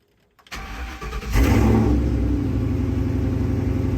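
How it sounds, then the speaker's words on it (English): A truck engine cranks briefly, then catches and fires up into a loud, steady idle with a rough, throbbing rumble. "I'm gonna start it up."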